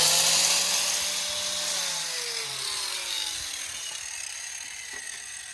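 A power tool cuts into a Mercedes-Benz 190E bumper, giving a loud, continuous whining grind whose pitch slowly falls as the blade bites into the material.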